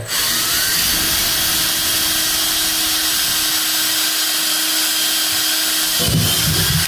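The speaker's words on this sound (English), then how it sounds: "You're going to pre-drill straight in." A power drill whines steadily and loudly for several seconds while pre-drilling a screw hole for a tub overflow plate, then its tone shifts as it bites in near the end.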